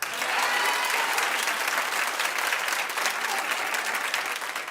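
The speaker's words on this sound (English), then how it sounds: "clap if you'd like to see this happen." Steady, dense applause from a television talk-show studio audience fills the whole stretch, loud and continuous with no voices on top.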